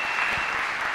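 Church congregation applauding together, a dense, loud wash of clapping filling the whole brief moment.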